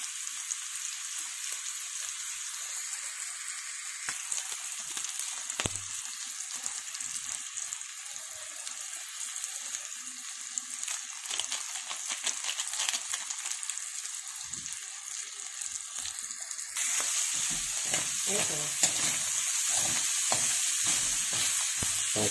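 Sotanghon guisado sautéed in a pan with aji ginisa seasoning: a steady, close sizzle with scattered stirring scrapes and clicks. The frying grows louder and brighter toward the end, and no one speaks.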